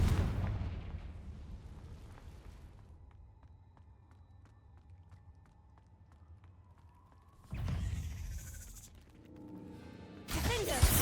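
Explosive Confringo blasting-spell bursts in the Hogwarts Legacy video game, a heavy rumbling blast fading out, then quieter ticking effects before two more sudden loud bursts of impact and crackle.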